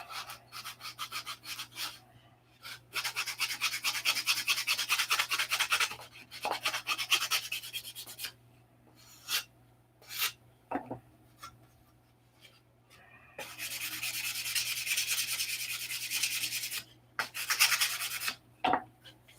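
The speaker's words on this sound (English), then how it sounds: "that flap is sanded out, roughed in" Sandpaper being rubbed by hand over an aircraft flap in a hangar, in bursts of quick, close scratching strokes separated by short pauses, with a faint steady hum underneath.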